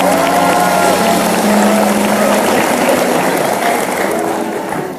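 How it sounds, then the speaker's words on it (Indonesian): A studio audience on an Indonesian comedy talk show claps loudly in a sustained, roaring wave, mixed with cheering voices and a rattling noise, fading slightly toward the end. "Boleh tepuk tangan untuk mereka."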